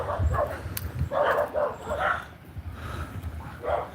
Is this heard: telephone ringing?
no